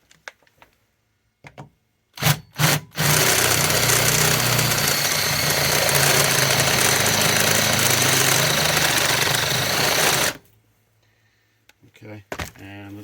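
A Mopar 318 V8 running on an engine test stand roars loudly and steadily for about eight seconds after a few short bursts, then cuts off, with brief clattering noises around it.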